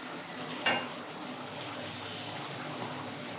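Washed, cut potatoes tip into a frying pan of fried spices to be cooked down, giving one brief clatter near the start over a steady, close sizzle.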